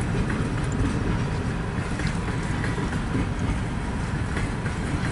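A four-engine CN freight train rumbles past as it slows near a rail yard in Kimball Township, Michigan, a steady, dense roar of wheels and cars filling the whole stretch at close range.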